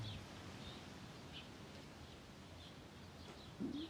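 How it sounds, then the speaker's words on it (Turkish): Soft, steady wind noise outdoors in Vakıflıköy, Samandağ, Hatay, Turkey, a low continuous rush with a few faint chirps from birds in the distance. "Rüzgarın sesini size dinleteyim dedim."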